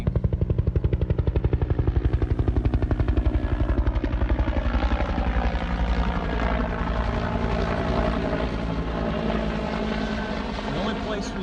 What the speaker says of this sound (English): Chopper keeps circling.